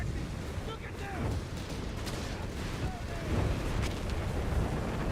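Sustained artillery barrage in Company of Heroes 3, 5.5-inch guns firing constantly, a dense rumbling wash of distant booms and crackling impacts with no clear gaps.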